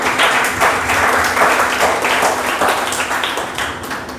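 A church congregation gives a strong round of applause, dense clapping that stays loud and close for several seconds before easing slightly at the end.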